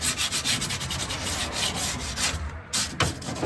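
Sandpaper rubbing on wood in quick back-and-forth strokes, close and loud, steady for a few seconds with a brief pause near the end.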